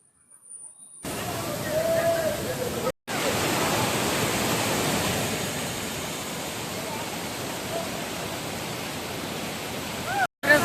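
Ermayi Waterfalls near Ujire in Beltangadi roar with a steady, dense rush of falling water that fills the scene at close range, broken only by brief cuts.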